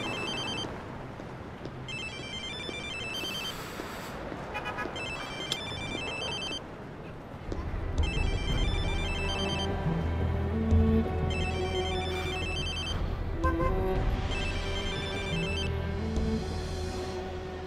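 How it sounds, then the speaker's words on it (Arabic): A mobile phone ringtone rings repeatedly in a melodic electronic pattern, steady and fairly loud, with a rise in low-end background sound partway through; no talk is heard over it. "معلم موبايلك عم بيرن"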